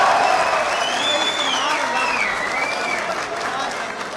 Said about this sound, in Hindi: आपके लिए बहुत सी तालियां यार